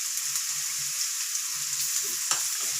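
Onions, green chili and ginger sauté in a pan for a Tamil prawn curry, giving a steady close sizzle with faint stirring knocks throughout and no talking.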